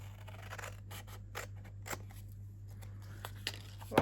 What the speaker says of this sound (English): Now bring my big scissors in and take these two side pieces off.